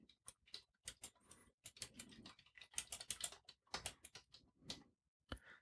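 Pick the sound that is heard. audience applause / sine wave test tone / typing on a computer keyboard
typing on a computer keyboard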